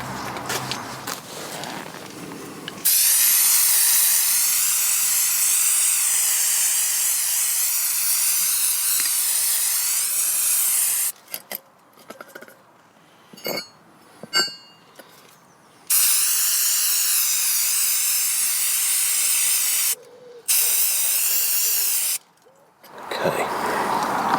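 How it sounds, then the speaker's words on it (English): Brake cleaner sprays in long hissing bursts onto the front brake caliper carrier of a Land Rover Freelander 2, loud and close, broken by short pauses and small clinks of handling between blasts. "I've used brake cleaner and thinners to dissolve off as much as I can."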